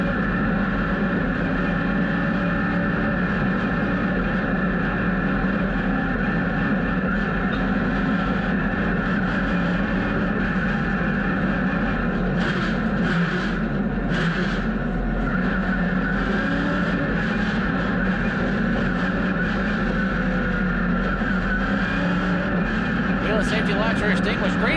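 Race cars at Hickory Motor Speedway on a Saturday night, a steady, distant blended engine drone from the pack under a track announcer's continuous commentary.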